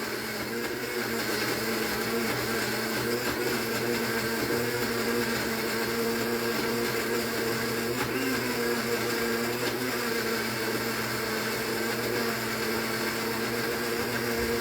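A food processor whirs continuously while chopping ceviche ingredients, a steady motorized grinding drone held at constant loudness close by, with no talking.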